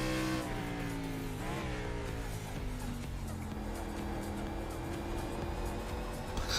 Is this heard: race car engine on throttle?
yes